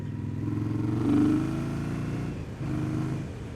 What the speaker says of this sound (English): This Scout engine feels a lot more refined than the one I had.